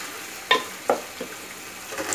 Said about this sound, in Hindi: थोड़ा सा इसकी भुनाई करेंगे, आंच को मैंने थोड़ा सा तेज़ किया हुआ है